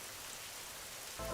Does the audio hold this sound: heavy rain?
yes